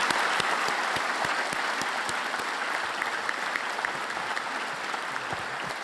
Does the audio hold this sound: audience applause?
yes